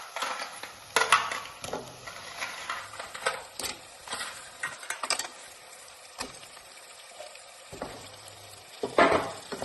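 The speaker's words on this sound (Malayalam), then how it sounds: "ഇനി ഇതിലേക്ക് ക്രാബ് ഇട്ട് കൊടുക്കാം. ഞാൻ 1/2 കിലോ ക്രാബാണ് ചേർത്ത് കൊടുക്കുന്നത്." Half a kilo of crab is frying and being stirred in a spiced masala for a Kerala-style crab curry: sparse scraping stir strokes and brief crackling sizzle bursts, with quiet gaps in between and no talking.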